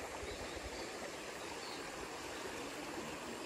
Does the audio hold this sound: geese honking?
no